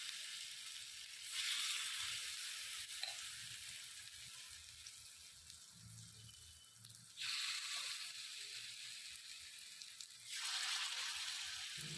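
Jowar appe batter sizzles in a hot appe pan: a steady, soft hiss of frying that swells louder several times as more batter is added, with no talk over it.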